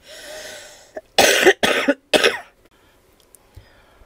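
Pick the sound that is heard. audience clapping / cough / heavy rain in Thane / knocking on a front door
cough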